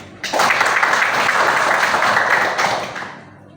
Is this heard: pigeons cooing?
no